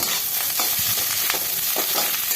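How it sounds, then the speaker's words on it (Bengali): Onions lightly frying sizzle steadily and up close, with soft stirring scrapes breaking through the continuous hiss. "পেঁয়াজটাকে খুব বেশি ভাজবো না হালকা মতো একটু ভেজে নেব"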